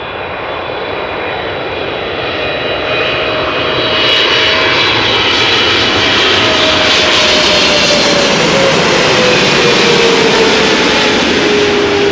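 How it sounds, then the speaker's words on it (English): A KLM airliner arriving from Vancouver, Canada, an eight-year-old plane, lands at Amsterdam Schiphol with a loud, steady jet-engine roar that builds over the first few seconds, then holds close and strong, with a slowly falling whine. "KLM flight 682, arriving from Vancouver, Canada."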